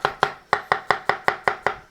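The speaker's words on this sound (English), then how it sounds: "always cut the onions last because it gets spicy" Knife chopping onions on a cutting board for summer rolls, nine crisp evenly spaced chops in quick steady rhythm, close and clear with no talk.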